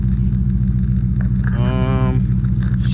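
Cammed 5.7 V8 in a Dodge Charger with lowering springs, driving: a steady, loud lopey engine rumble throughout, with a brief rising harmonic whine midway as it revs.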